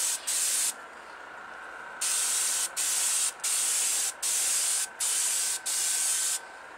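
Bursts of a Testors Aztek airbrush spraying acrylic paint onto a model car body, a sharp hissing spray in repeated pulses of about half a second to a second, separated by short gaps, close by.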